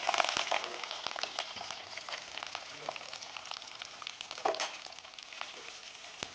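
Onions with mustard seeds, dried red chillies and curry leaves sautéing in a pan give off a steady crackling sizzle. Small pops and scrape-like bursts come up now and then, and nobody speaks.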